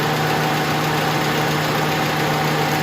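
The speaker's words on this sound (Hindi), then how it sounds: "देखें इंजन और ज़्यादा वाइब्रेट करने लग गया" A Suzuki Cultus EFI engine idles loudly and close up with one fuel injector removed. It makes a steady, rough drone with a slight uneven misfire throb, and no voices are heard.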